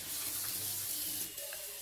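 Basmati rice being washed under running water in a kitchen: a steady, close rush of tap water splashing into a vessel, continuous throughout with no talk.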